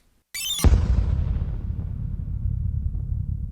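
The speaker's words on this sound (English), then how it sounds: "I found this really nice impact right here that's just kind of this big downbeat" A big downbeat impact effect named Subsonic for a dark alt pop production: a sharp, loud bright hit that drops into a long, deep rumbling low-end decay sustaining for several seconds, alone without voices.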